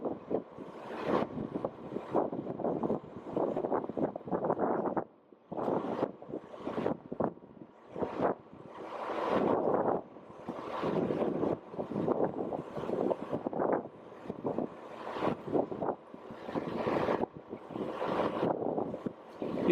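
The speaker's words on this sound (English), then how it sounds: "You can listen to the wind" Wind gusting across an open microphone aboard a boat during the removal of a generator from a Bayliner 4788, a steady rumbling buffet that surges and dips in irregular bursts with no talking.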